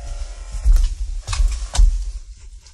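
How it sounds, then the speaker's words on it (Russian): Three short electronic beeps from a water-level sensor in a homemade camper van, spaced evenly and close, over a low steady hum. "Ну, это вот датчик воды."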